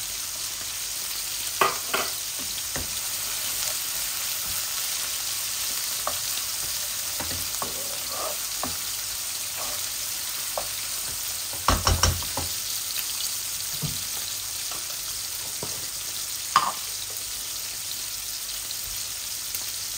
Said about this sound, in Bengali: তেল গরম হয়ে গেছে, এখন আমি পেঁয়াজগুলাও দিলাই।